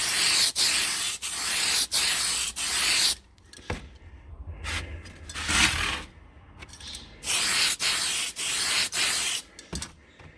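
Close bursts of aerosol spray paint hiss in short repeated passes, dusting black undercoat onto a President Adams faceplate, broken by a quieter pause with light handling noises before the spraying resumes.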